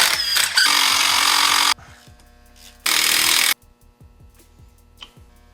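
A power tool, likely an impact driver or ratchet, spinning out 7mm Allen caliper bolts on a 2000 Jeep Grand Cherokee brake, two loud sustained whirring bursts with a garage hum between them.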